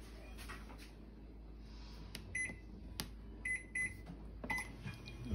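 A microwave oven running with an Angry Mama steam cleaner inside gives a steady low hum, broken by a few short, bright beeps partway through.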